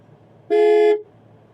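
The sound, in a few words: car horn sounded during a driving lesson in a Bolero Neo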